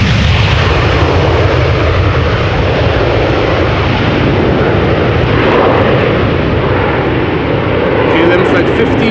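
An airliner takes off at Amsterdam Schiphol Airport, a loud sustained jet roar that holds steady throughout as the plane accelerates and rotates, with a voice talking over it.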